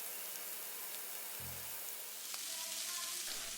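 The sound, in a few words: shrimp frying in pan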